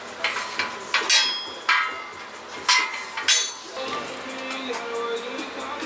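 A socket is driven against a shaft on a Honda Dio 72cc scooter, giving a series of sharp metallic clinks and taps at uneven intervals, close and fairly loud, with no one talking.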